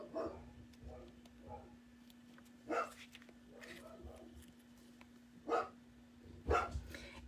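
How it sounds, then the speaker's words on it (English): A dog barks in the background of an indoor card-making session, giving several separate sharp barks and yips spread out over a few seconds at moderate distance, with a steady low hum underneath. "So I hope you guys like the background barking."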